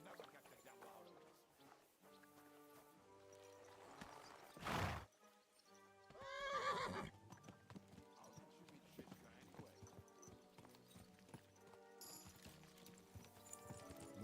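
Horse in Kingdom Come: Deliverance II, hooves clip-clopping steadily with a loud neigh partway through, set against game ambience.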